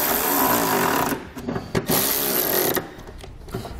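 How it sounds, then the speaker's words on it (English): A socket wrench tightens running board bracket bolts on a vehicle, giving a loud, dense mechanical rattle that breaks off briefly, starts again, and then stops. "we'll be using a 10mm socket to tighten up those 2 bolts"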